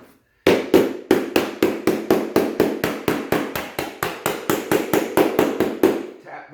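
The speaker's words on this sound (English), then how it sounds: "I'll usually just take a rubber mallet." Rubber mallet tapping vinyl molding down into its track, a quick steady series of about twenty sharp close knocks at an even rhythm with brief gaps, beginning after a moment of quiet and ending with a final softer tap.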